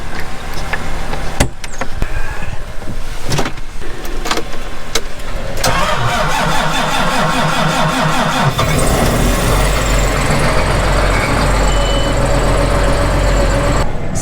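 A tractor engine cranks over several times and catches, then settles into a loud, rough idle close by, with no talking.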